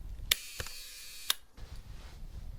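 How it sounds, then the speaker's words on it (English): The leaf shutter of a 1960s Canon Canonet Mk1 rangefinder camera fires in three quiet, sharp clicks close by, separated by brief pauses against a low, hushed background. "just firing the shutter reminds you just how quiet and free from vibration these leaf shutter"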